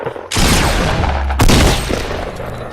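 Bursts of gunfire in the video game Fortnite during a solo Xbox match, loud and close, two sustained volleys with a brief break between them.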